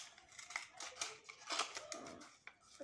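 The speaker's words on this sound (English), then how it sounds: "Now we will cut this extra paper and stick it." Scissors snipping through spare paper during a pencil box craft, a quick irregular series of crisp close cuts with no talking.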